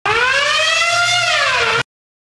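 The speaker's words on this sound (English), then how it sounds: "It's the alarm and everything." A loud alarm siren wails steadily for nearly two seconds, its tone rising slightly and then falling before it cuts off abruptly into silence.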